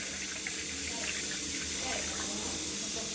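Water pours steadily from a kitchen tap into a sink or container, a constant loud hiss and splash that holds without a break, with faint background voices.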